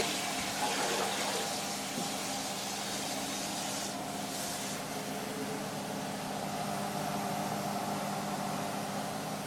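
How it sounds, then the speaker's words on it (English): Water running steadily into large pots for making slime, a continuous broadband rush and hiss with little change over several seconds, fairly close. "The famous slime pots are being filled as we speak."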